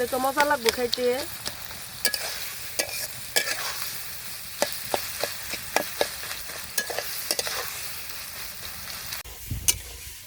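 Mashed taro leaves frying in a pan are stirred with a spoon, giving repeated sharp scraping and clinking strokes over a soft, steady sizzle, close and clear.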